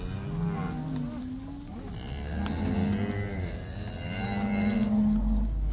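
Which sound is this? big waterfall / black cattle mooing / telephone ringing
black cattle mooing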